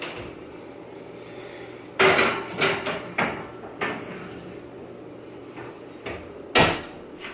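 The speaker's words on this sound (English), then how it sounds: "we're gonna put them in a 350-degree oven for 20 to 25 minutes" Several hard clunks and knocks from a kitchen oven door and baking pan as buttery fan rolls go in to bake, spaced irregularly over a low background hum with no talking.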